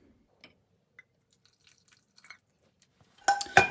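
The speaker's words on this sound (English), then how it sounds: "Now we're gonna strain our flavored butter and milk into the potatoes" Brown butter infused with milk, garlic and sage is strained into a pot of mashed potatoes: a few faint, scattered drips first, then a louder splashing pour near the end.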